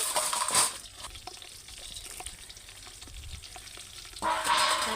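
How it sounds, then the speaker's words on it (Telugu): Whole spices sizzling in hot oil for dum biryani, a soft crackling fry with bursts of louder hissing at the start and end, close and without voices. "చక్కగా పల్వా సరుకులు వేసుకున్నాక బాగా ఏగాలండి"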